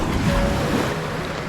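Sea waves at a beach resort, a steady close wash of surf blended with wind rumble across the microphone, continuous and fairly loud with no voices.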